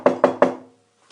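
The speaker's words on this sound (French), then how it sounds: "Eh bien ce soir-là, on frappe à la porte." Three sharp knocks on a door, close and loud in a quick even rhythm, each ringing out briefly before the sound fades to silence.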